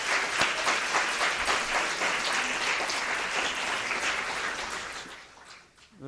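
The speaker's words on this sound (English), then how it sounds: "So let's give them a collective round of applause." An audience at a congressional briefing on water infrastructure gives a collective round of applause, dense sustained clapping that tapers off near the end.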